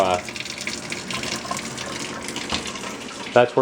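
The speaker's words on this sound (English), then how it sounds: "keep filling that hot water just until the water starts getting hot enough to sting a little bit" Hot water gushes steadily from a kitchen tap for bread-making yeast, a continuous splashing hiss with someone talking over it.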